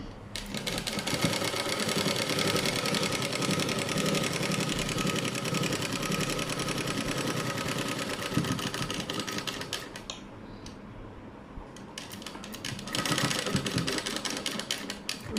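A sewing machine stitches along a folded cloth edge in a tailoring lesson, running as a loud, steady rapid mechanical whir that pauses briefly near the end before starting up again, with no voices.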